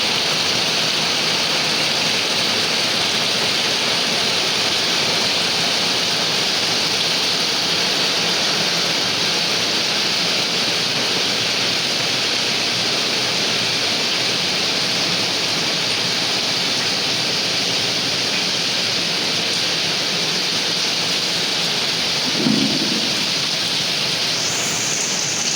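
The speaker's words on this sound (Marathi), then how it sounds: "आणि पाऊस बघा काय पडतो तो." Heavy monsoon rain falls on a Konkan village, a loud, steady, dense hiss of water that runs unbroken throughout, with one brief low thud near the end and no talk.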